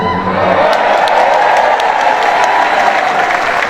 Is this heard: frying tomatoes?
no